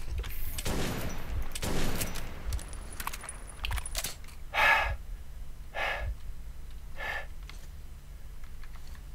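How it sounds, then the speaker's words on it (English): A shotgun in Metro 2033 fires in a few loud, close blasts early on, followed by three separate bright metallic clanks spaced about a second apart over a quiet low hum. "It's funny why I'm using my shotgun"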